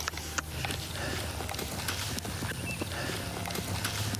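A horse's hooves clip-clop at a quickening pace during a training session, a steady near rhythm of hoofbeats over a constant outdoor background.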